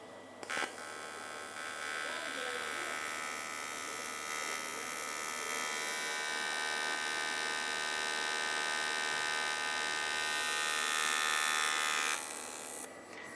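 Steady electric hum and whirring fan of a Vector London 2400 TIG welder with its water cooling system running, a constant buzzing drone with a brief clunk near the start.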